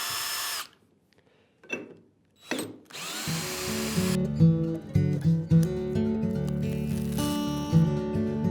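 A power drill drives screws into a plywood workbench: a few short bursts of whirring, then a longer sustained run with the motor straining and changing pitch as the screw bites into the wood.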